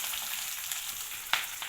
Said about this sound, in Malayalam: കടുക് കട കട കട പൊട്ടിക്കട്ടെ.